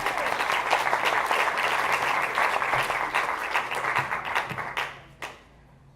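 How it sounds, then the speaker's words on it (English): A memorial service congregation gives a sustained round of applause lasting several seconds before it quickly dies away into a quiet room. "Let's give Mr. Hill another round of applause."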